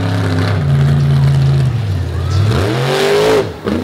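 FTI Torque Ram monster truck driving on a beach at a monster truck show, a loud close engine roar that holds steady and then revs upward, with a voice faintly under it.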